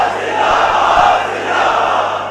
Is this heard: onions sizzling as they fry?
no